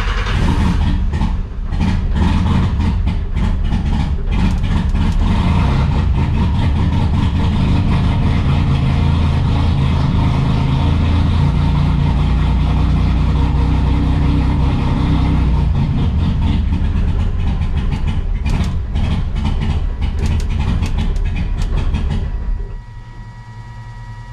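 A V6 turbo Ecotec engine running on E-85 fuel, loud and close, holding a steady rumbling idle with some revving throughout, then shutting off just before the end.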